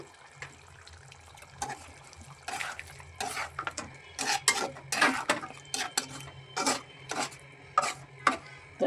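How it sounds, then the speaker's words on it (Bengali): Pot lid lifted and a spoon stirring chicken curry with potatoes and papaya in a pot, a series of irregular metallic scrapes and clinks, quiet and close, with a faint background hum. "তো আমি ঢাকনাটা তুলে নিচ্ছি, তুলে একটু নাড়াচাড়া করে দিই।"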